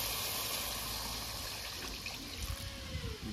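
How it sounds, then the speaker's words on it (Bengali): Water pours into a pan of curry masala being cooked for a rohu fish posto, giving a steady close trickling wash with low bubbling beneath and no talk. "এবার তরকারি রান্না করার জন্য জল দিয়ে দেবো"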